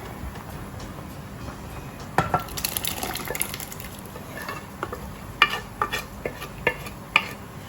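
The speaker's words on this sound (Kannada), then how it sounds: "ಈಗ ನಾನು ಬೇಳೆ ಹಾಕ್ಕೊಳ್ತೇನೆ." Cooked lentils are stirred into boiling sambar, with a soft bubbling bed under scattered clinks and scrapes of a spoon on the pot that grow more frequent toward the end.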